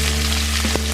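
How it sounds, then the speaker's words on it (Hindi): Onion sizzles steadily in a pan of hot oil with whole spices and curry leaves, a close, continuous frying hiss with a couple of faint stirring clicks. "अब इसको हम भून लेंगे हल्का ब्राउन होने तक।"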